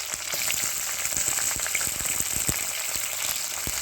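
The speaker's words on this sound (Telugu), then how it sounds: "ఇది ఒక్కసారి వేగిపోయాక మనం ఉల్లిపాయలు వేసేసుకోవాలి." Onion frying in oil with cloves and cinnamon crackles and sizzles steadily, close and fairly loud, with frequent sharp spatters and pops and no voices.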